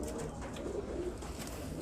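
Sialkoti golden pigeons cooing in a loft, soft repeated throaty coos close by over a steady background hum.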